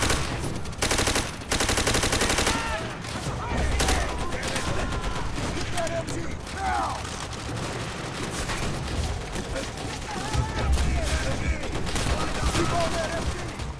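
Sustained machine gun fire in the video game Call of Duty: World at War, loud and continuous chattering bursts layered with other battlefield gunshots and explosions throughout, with voices shouting occasionally over the din.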